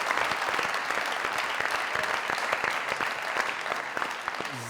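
Loud, dense audience applause on a comedy talk show stage, sustained evenly from start to finish with many overlapping claps and no talk.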